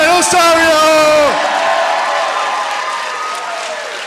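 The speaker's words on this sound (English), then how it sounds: "let's put our hands together for your winner" Crowd applause rising as the winner is announced at a Medieval MMA fight night, Golden Ring V, with the announcer's voice carrying over the start before the clapping and cheers settle into a steady, sustained roar.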